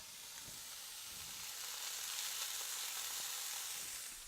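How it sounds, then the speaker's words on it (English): Ham frying and browning in a hot pan, a soft, even hiss of sizzling fat that holds steady and swells slightly midway, close but quiet, with no voices. "So first I'm just going to add my ham onto there to get a bit of browning on that."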